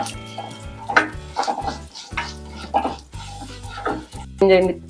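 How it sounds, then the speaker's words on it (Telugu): Urad dal and chana dal roasting and being stirred in a pan, with scraping stir strokes and soft sizzling under background music. "టూ టు త్రీ స్పూన్స్ మినప్పప్పు మంచి కలర్ మారేంత వరకు వేయించాలి"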